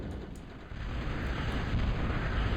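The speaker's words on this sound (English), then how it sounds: "More raid bombing." Heavy, continuous rumbling blasts from a bombing raid in a real-time strategy match on the map John's Pond, a dense low roar rolling without a break and swelling slightly after the first moments.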